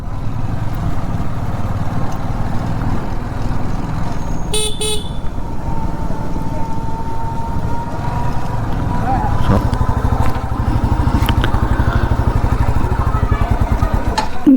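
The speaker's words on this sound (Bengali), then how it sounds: "বাইকটা এখানে রাখি।" A motorcycle engine idles with a steady low rumble, and a short horn toot sounds partway through amid nearby road noise.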